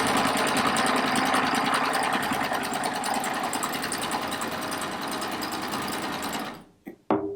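A sewing machine runs steadily, stitching a straight seam through a rag quilt, its loud, continuous motor whir holding close and even before cutting off abruptly near the end, followed by a couple of brief clicks.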